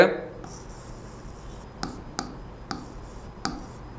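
Chalk or marker strokes on a board during a maths lesson, several short sharp taps and scratches spaced irregularly, close and fairly quiet.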